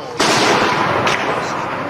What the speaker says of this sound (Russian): слышны были звуки выстрелов автоматов, гранатометов и снайперской винтовки